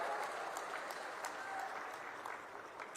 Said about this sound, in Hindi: एक बार जोरदार तालियों के साथ उनका स्वागत और अभिनंदन करें।